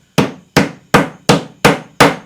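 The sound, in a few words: hammer knocking T-nuts into soft wood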